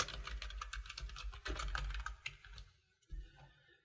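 Rapid typing on a computer keyboard, a dense run of close, crisp key clicks with a short pause near the end before a few final keystrokes, no talking.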